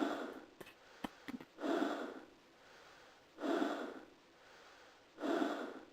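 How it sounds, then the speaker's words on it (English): Heavy breathing in the adventure game Trilby's Notes: three slow, loud, rasping exhales spaced a couple of seconds apart, with a few small clicks early on and no talk. "Just enjoy the heavy breathing."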